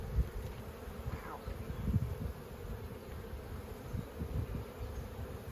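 Honeybees from a thriving hive, buzzing around the open box during an inspection, a dense, faint hum of many wings, heard close with small rises and falls.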